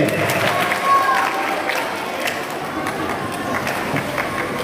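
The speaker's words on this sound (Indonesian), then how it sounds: "kita berikan tepukan untuk atlet-atlet kita yang telah mendapat keputusan cemerlang di KBK" Applause from an audience at a karate kata event opening ceremony, a dense, moderately loud clatter of many hands clapping with crowd murmur blended in, lasting throughout.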